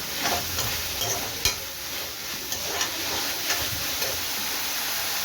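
Onions and tomatoes sautéing in a pan for an iral gravy, a steady close sizzle with scattered ticks and scrapes of stirring throughout, no voices.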